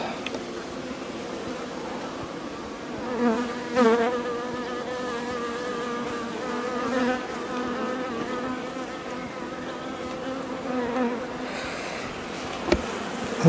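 Honeybees hum in a dense, continuous buzz around an open hive during a summer colony inspection, close and loud with individual bees swelling past the microphone, and a voice murmuring briefly underneath.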